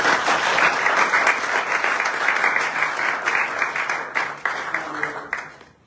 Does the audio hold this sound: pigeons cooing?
no